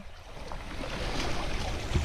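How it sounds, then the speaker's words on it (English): Headquarters Creek in the Wichita Mountains flows steadily with a continuous broadband rush of moving water, close and even, with no talking. "Headquarters Creek is flowing nicely"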